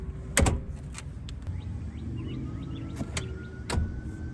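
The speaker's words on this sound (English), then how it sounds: "Putting the second row seats up is also very easy. Just lift them up." Second-row seats of a 2021 Toyota Highlander Platinum AWD are lifted into place, making a few sharp clunks and latch clicks over a steady low cabin hum, with no talking.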